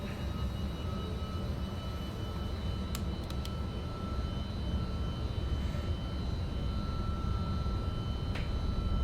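MD-11 jet engines spooling up on the runway for takeoff in a flight simulator, a loud steady roar with a sustained whine and a few faint clicks, no speech.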